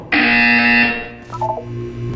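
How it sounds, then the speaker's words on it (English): Buzzer from the video game Portal 2: a single loud, harsh electronic buzz lasting under a second, followed by fainter chiming game tones. "When you hear the buzzer, look down at the floor."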